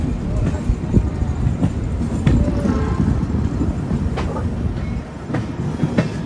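The Vivek Express, a long-distance Kanniyakumari–Dibrugarh passenger train, rumbles along loudly and steadily from inside, its wheels clicking over rail joints in an irregular rhythm.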